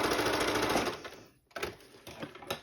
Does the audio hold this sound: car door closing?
no